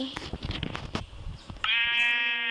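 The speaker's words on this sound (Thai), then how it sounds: "ผมจะพาเจ้าแกะตามหาลูฟี่นะครั บ" A sheep bleating in the Minecraft video game, a loud, drawn-out bleat near the end that follows a stretch of muffled clicks and game noises.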